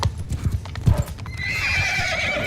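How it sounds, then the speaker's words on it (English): A horse in the video game Mount and Blade II: Bannerlord clip-clops in a quick run, then lets out a loud whinny that trails off over the final second. "Because apparently I don't know how to ride a horse."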